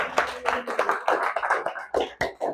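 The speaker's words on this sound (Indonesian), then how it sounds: "Tepuk tangan untuk S1." A class of students claps together in a classroom, a burst of separate, fairly close hand claps that comes in uneven waves, with no talking over it.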